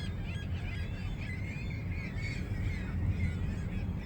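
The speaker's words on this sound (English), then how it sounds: "Just take a look at the amount of birds." A large flock of birds calls outdoors, a dense continuous chorus of honking, goose-like cries over a low rumbling background, fairly faint and steady throughout.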